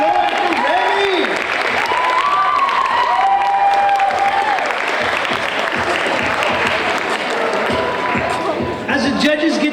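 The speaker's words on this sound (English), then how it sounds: "Keep the applause going for Remy." Sustained audience applause and cheering for a slam poet at a high school ninth-grade slam, loud and continuous, with voices calling out over the clapping.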